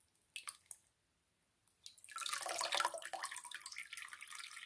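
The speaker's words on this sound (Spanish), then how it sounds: "Vamos a dejar que chorree libremente o podemos apretarla." Water dripping and then pouring from a soaked piece of absorbent fleece cloth: a few distinct close drips, then a steady splashing trickle into water, soft and alone.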